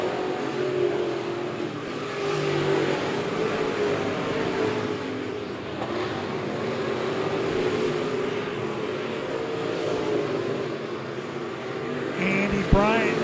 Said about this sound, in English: Andy Bryant, your leader, going down the backstretch as he catches up to Steve Wolf, that number 42 machine